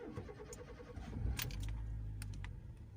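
A manual Honda Jazz is started with the key, clutch not pressed: a jangle of keys and clicks, then a short starter crank that catches into a low, steady idle, fairly close and moderately quiet.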